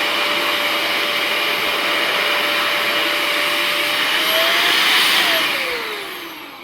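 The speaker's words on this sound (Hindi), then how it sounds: "ये भी ड्रायर है, आप इसका यूज़ कर सकते हैं।" A small electric dryer blowing air to dry cochlear implant accessories, a loud steady whirring hum throughout that swells slightly and then tapers off at the end.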